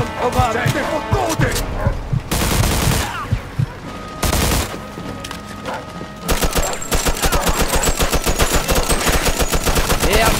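Video game gunfire in Mafia 2, with bursts of rapid machine-gun fire and loud shots, building into a sustained fast fusillade toward the end.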